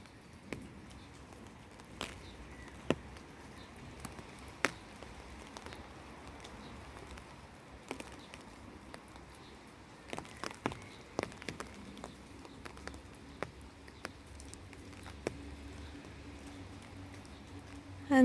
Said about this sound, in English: to the sounds of the rain and the birds